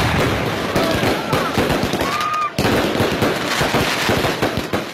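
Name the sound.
fireworks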